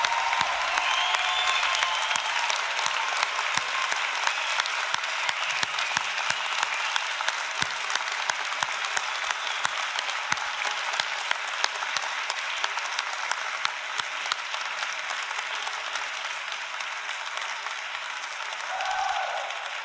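A graduation audience at an Austin campus ceremony gives a long round of applause, a steady, fairly distant roar of many clapping hands that carries on for about twenty seconds with no speech over it.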